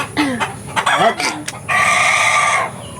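Chickens cluck and a rooster crows nearby, short clucks giving way to a longer, sustained call.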